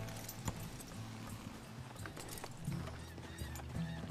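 A horse gallops in the video game Red Dead Redemption 2, its hooves clip-clopping steadily at moderate distance. A brief whinny and faint background sounds can be heard underneath.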